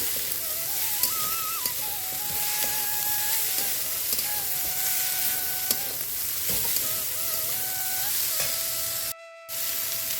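Chopped medium tomato frying in a pan for sambar dal gives a continuous close sizzle and hiss, broken by occasional stirring scrapes and a brief dropout near the end, with no talking.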